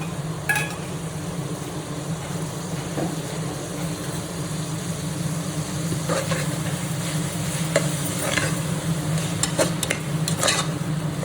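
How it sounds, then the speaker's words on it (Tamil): Masala for mutton biryani sautés in a pan with a steady low sizzle and hum, broken by occasional sharp clicks of a spoon against the metal, close by and without speech. "இது வதங்கட்டும்."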